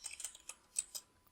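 Quiet computer keyboard key presses while pressing Ctrl and Enter to run an Oracle SQL insert command, several soft clicks spread unevenly over about a second, close and isolated with no talking.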